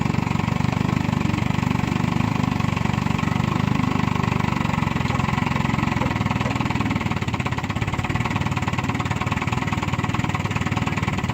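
A 1959 Johnson QD-20 10hp outboard motor idling at a pond, a loud close steady putter with a rapid even pulse that keeps running throughout with no speech.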